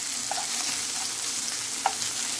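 Vegetarian meat fries in a little olive oil, a close, steady sizzle broken by a couple of light clicks and scrapes as pieces are turned over.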